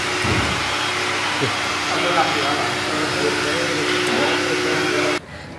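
A blower runs with a steady, loud whooshing roar at an indoor thermal bath, a continuous hum that cuts off abruptly near the end, with people talking over it.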